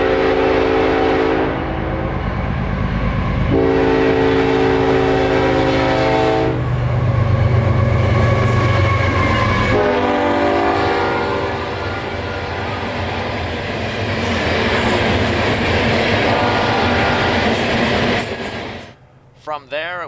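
A CSX 20,000-ton potash freight train passes close by, sounding its horn in several loud blasts over a continuous heavy rumble and rail noise that fades near the end.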